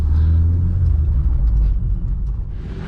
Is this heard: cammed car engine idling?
yes